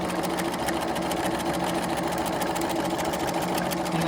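A sewing machine with a quarter-inch foot runs a steady, continuous stitching whir up close, sewing a quarter-inch seam on a half rectangle triangle quilt block without pause.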